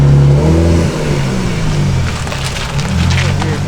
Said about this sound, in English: Hey, give me like a rev.